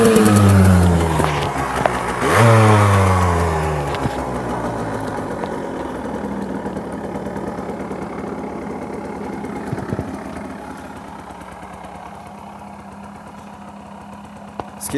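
A Gilera 50cc motorcycle running on its original exhaust, loud and close, with a revving engine note that rises early on, dips, then settles into a steady buzzing idle.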